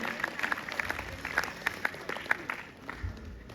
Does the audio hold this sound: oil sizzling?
no